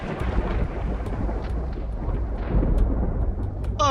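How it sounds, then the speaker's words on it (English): Thunder rumbles through a storm over a Minnesota lake near a family cabin, a continuous low, loud roll that swells and persists across the whole stretch with no talking. "you can hear the thunder"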